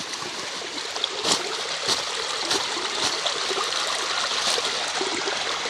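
Fast-flowing water rushes steadily at a red brick factory, a loud, close, continuous roar with a few small splashy surges and no voices.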